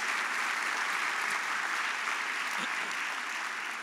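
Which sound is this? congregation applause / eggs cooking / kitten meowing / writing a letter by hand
congregation applause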